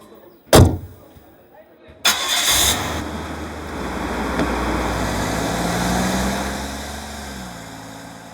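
A car engine cranks and catches after a door thuds shut, then settles into a steady idle that runs on close by.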